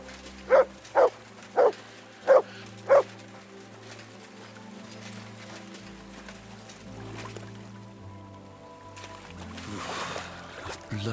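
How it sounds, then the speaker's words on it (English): A dog in the game Kingdom Come Deliverance II gives five loud, evenly spaced barks up close. Quiet outdoor ambience follows, ending in a swell of water-like noise. "Good dog, Mutz."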